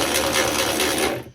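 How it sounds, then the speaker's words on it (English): A Milwaukee ratchet with a 24mm socket works the rear axle nut of a small mini bike, giving a fast, loud, continuous close-up ratcheting buzz that cuts off after about a second. "So I ended up finding a 24mm socket, and we got our Milwaukee ratchet."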